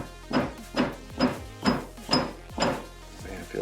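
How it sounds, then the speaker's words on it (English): A series of sharp metallic taps, about seven evenly spaced strikes of a small hammer driving billet plugs into a Yamaha Phazer carburetor, close by with a light ringing clink. "it feels weird to hammer on a carb"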